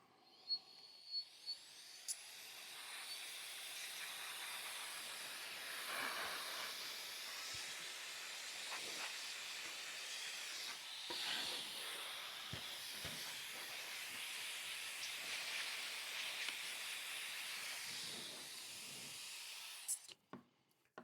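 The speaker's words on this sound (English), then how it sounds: "I take my little portable blower and I just blow everything out" A small portable blower blasts air into a PC to clear out dust, a loud steady high hiss running about eighteen seconds after a few clicks, then cutting off.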